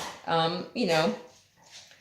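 Pet dogs startled by a cough let out two short whimpering yelps close by, followed by a fainter breathy sound, in an otherwise quiet room.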